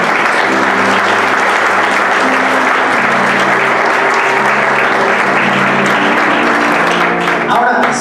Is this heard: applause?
yes